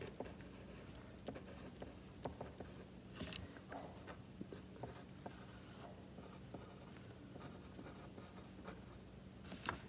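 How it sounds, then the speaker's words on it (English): Pen scratching across paper while song lyrics are written by hand, a steady close stream of soft strokes and taps with no speech. "I'm just gonna start writing lyrics."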